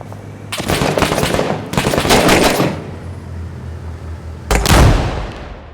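Automatic rifle bursts in the Iraq War video game Six Days in Fallujah, Operation Phantom mission: three loud, close bursts of rapid fire with short gaps, the last one heaviest, and no talk.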